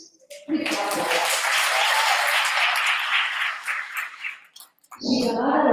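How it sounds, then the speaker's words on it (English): An audience bursts into sustained applause for a speaker at a women's leadership academy event. The clapping swells loudly for several seconds, then fades out, and a voice returns at the end. "Please clap for her."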